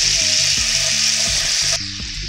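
Butter melting and sizzling in a pan just deglazed after searing deer meat, a steady broadband hiss that holds loud and close, then drops somewhat near the end, with faint background music beneath.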